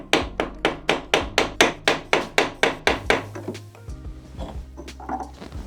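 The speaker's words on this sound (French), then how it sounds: "on prend une cale et un marteau et on achève la poussée et la mise en place du joint" A hammer taps a shim to seat an SPI oil seal in a scooter engine case, about fourteen sharp, evenly spaced knocks, then a few softer, scattered handling sounds.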